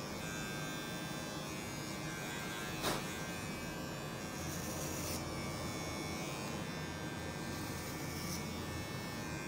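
An electric hair clipper buzzes steadily and closely during a layered haircut in a salon, with a constant motor hum throughout and one brief sharp click partway through.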